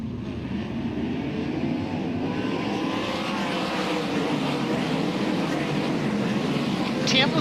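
Race cars roaring around a dirt oval during a crash in which cars flip down the back straightaway, engines rising and falling under an excited announcer's commentary.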